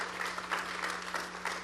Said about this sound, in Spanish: Yo le doy un aplauso a este pueblo.